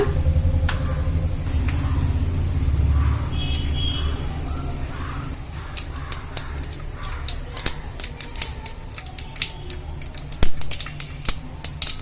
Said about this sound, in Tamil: கடுகு வெடிக்குதுப்பா.